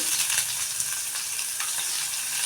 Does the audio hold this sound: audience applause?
no